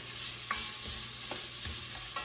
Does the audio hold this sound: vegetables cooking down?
yes